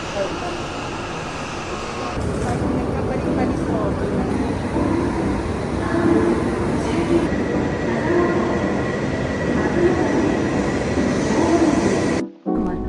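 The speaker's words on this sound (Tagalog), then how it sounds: "sasakay kami ng bullet train para ma-experience na" A bullet train in Tokyo, Japan carries passengers along with a steady loud rumble of running rail noise, faint wheel squeals and a brief whine overhead, ending in a sudden hush.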